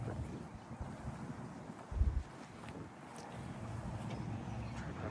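Steady wind buffets the microphone while heading straight into a headwind on the water. The rumble is low and muffled, with one brief louder gust near the middle and no talk.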